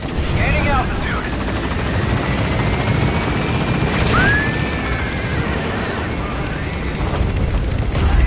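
A helicopter in the video game Metal Gear Solid V gains altitude and departs, its loud rotor roar filling the whole stretch while a radio voice talks over it.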